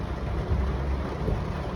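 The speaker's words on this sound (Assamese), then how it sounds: "এতিয়া কিন্তু বৰষুণ, ট'টেলি বৰষুণ।" Heavy rain pours down during a road trip from Guwahati toward Meghalaya, a dense, steady wash of close rainfall with a low rumble underneath, lasting the whole brief moment.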